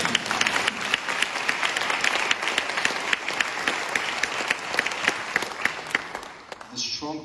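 Audience applause at a prize ceremony, a dense spread of many hands clapping steadily for several seconds, with a voice talking faintly underneath before the clapping thins out at the end.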